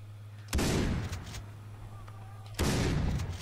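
Two loud gunshots in Far Cry 3 during a hunting outing, each a sharp close blast with a decaying tail, spaced about two seconds apart over a low steady hum.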